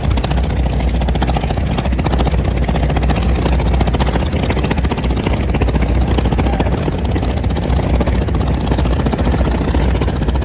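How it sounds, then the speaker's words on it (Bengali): A passenger trawler boat's engine drones in a loud, continuous low rumble with steady throbbing and wind noise. There are no distinct breaks and no clear speech. "এই দেখেন আরও একটি ট্রলার যাচ্ছে বিপুল পরিমাণ যাত্রী নিয়ে"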